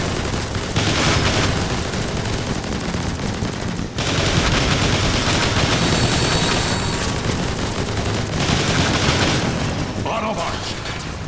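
Rapid laser gunfire and explosions blast nonstop in the Transformers: War for Cybertron video game, loud, dense and continuous with a brief break partway through, while voices shout over the battle.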